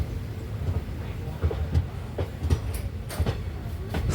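Velankanni Express, a diesel passenger train hauled by a WDG3 locomotive, rolls slowly out of Ernakulam Junction, heard from inside a rear sleeper coach: low steady rumble with irregular wheel clacks and knocks, moderately loud, no talking.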